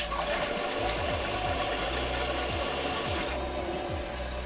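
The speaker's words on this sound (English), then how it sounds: "you guys can hear the water is running" Water spraying steadily from the nozzle of a LUXE Bidet Neo 185 toilet seat attachment, a constant hissing rush with a low gurgling pulse underneath, close by and without talking.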